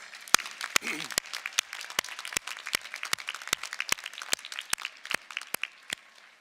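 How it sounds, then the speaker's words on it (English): Commencement audience at a nursing school graduation applauding, with sparse, distinct claps spaced out in a fairly steady rhythm, moderately loud and close, with a voice speaking over them. "please join me in a round of applause for your friends, family members, and your parents"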